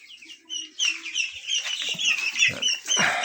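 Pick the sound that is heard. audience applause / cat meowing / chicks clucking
chicks clucking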